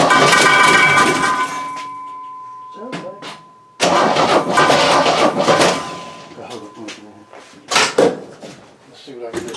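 An engine that has sat unrun for 30 years cranks over and over with the starter, in loud, close bursts of chugging turnover separated by brief pauses, with people talking nearby.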